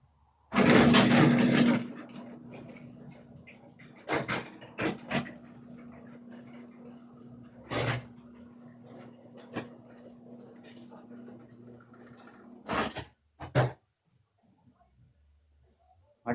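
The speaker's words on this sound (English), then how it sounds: "I'm going to close my garage door so you're going to hear some noise here" A home garage door closing, with a steady motor hum running underneath, scattered clunks and rattles, and a couple of heavier thumps near the end before it falls quiet.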